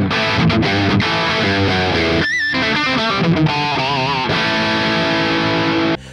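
A PRS electric guitar in humbucker mode, with a Les Paul-like tone, plays a thick, saturated, distorted lead with bends and sustained notes, loud and up close, without any talking.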